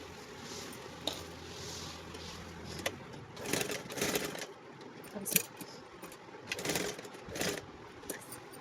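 A sewing machine stitching a pair of pants with a zip, running in short bursts of mechanical whirring broken by pauses, close and moderately loud.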